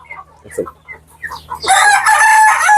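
A few soft clucks and calls give way to a loud, drawn-out rooster crow, close by, with other native hill-breed chickens around.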